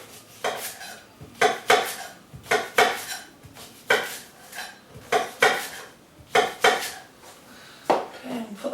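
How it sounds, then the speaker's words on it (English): A knife slices leeks on a chopping board in a kitchen, giving a rhythmic series of crisp cuts and knocks against the board, about a dozen strokes in quick pairs and singles, close and clear, with no voices. "you just slice your leeks to roughly the same sort of similar sizes"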